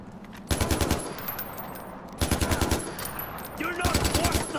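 Bursts of automatic gunfire from the video game Far Cry 4: three loud rapid-fire volleys separated by short pauses, with a voice briefly shouting during the last burst.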